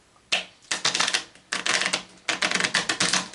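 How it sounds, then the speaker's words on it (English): A deck of slick playing cards is riffle-shuffled close by in three quick bursts of rapid fluttering clicks, each separated by a short pause, with no voices. "Let's try to shuffle these suckers, man."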